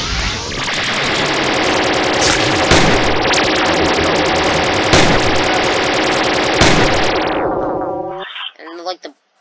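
Nuclear weapons detonate in the Rival Rebels mod for a video game, a loud, dense, continuous roar of blasts with several sharper booms on top, cutting off abruptly near the end with brief voice-like fragments.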